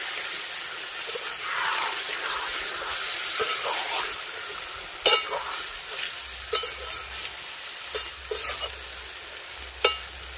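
Frying masala sizzles steadily in a pan after a small splash of water, for a bitter tita dish, with a bright hissing spray and occasional clinks of a stirring spoon, close and moderately loud.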